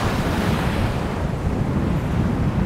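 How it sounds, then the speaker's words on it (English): Steady, loud gusty wind on Juno Beach Pier, Florida, buffets the microphone with a continuous low roar, with no voices present. "super windy out today."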